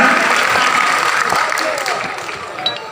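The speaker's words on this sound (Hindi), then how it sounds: "जोरदार तालियों के साथ स्वागत किया जाए" Loud applause fills a crowd gathering at a Sardar Patel birth anniversary celebration, steady and dense throughout, with some voices mixed in underneath.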